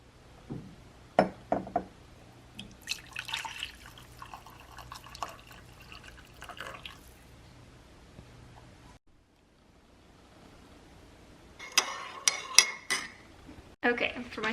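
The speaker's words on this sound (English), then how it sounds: "going to pour it into this pot and reheat it on the stove" Broth being poured into a pot on a home stove for reheating, with a run of liquid splashing between sharp clinks and clatters of cookware and utensils, close up with no voice.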